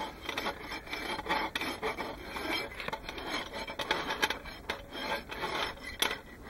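A horse hoof's loose wall is rasped down before a glue-on boot is fitted, giving a steady close scraping and filing with rhythmic strokes and no talk.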